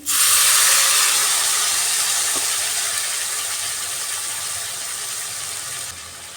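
Water poured into a hot pan of egg and potato curry sets off a loud, steady steaming hiss that starts abruptly and slowly fades.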